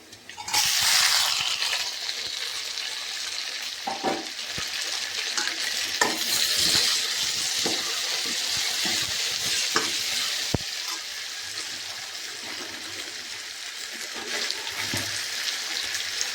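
Onions and tomatoes frying in a pan, a continuous close sizzle with scattered clicks and scrapes of stirring throughout.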